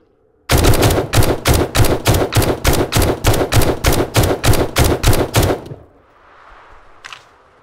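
Rapid automatic gunfire from a weapon in the zombie survival game 7 Days to Die: roughly sixteen loud, evenly spaced shots over about five seconds, followed by a quiet low rumble and a brief faint tail.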